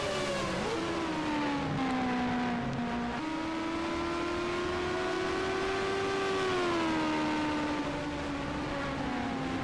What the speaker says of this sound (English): More cars coming down pit lane